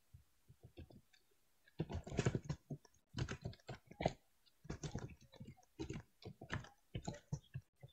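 Keys clack on a computer keyboard while a name is typed into Microsoft Word, coming in close, uneven bursts of rapid taps separated by short pauses.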